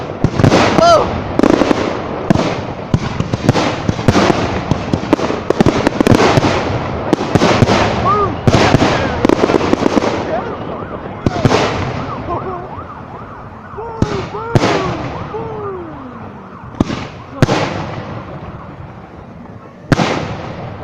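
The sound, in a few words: New Year's Eve fireworks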